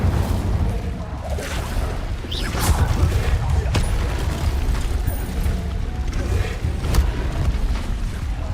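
Incendio fire spell cast in a video game, a rumbling burst of flame with crackling, popping pulses and a few sharp snaps over several seconds, steady and moderately loud.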